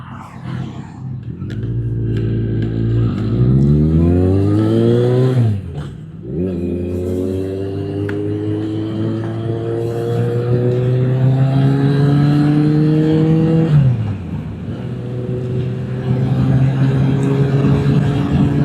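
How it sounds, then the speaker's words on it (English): A car on a narrow country lane rises in pitch as it approaches and passes close by with a loud engine, followed by a second vehicle passing near the end, all heard over steady motorbike engine drone. "There's always one car coming, isn't there?"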